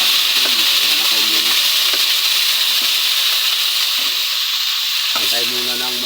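Garlic and onion sautéing in a home kitchen pan, a loud steady sizzle and hiss with occasional scrapes and knocks of stirring, close up and without talk.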